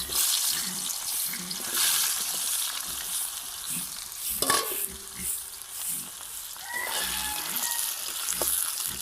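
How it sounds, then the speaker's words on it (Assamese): Potato pieces fry in hot oil for a jackfruit dish. The sizzle is loud and steady throughout, with a brief clatter of stirring near the middle and no voices. "অলপ ফ্ৰাই কৰি ল'ব লাগিব আলুটো।"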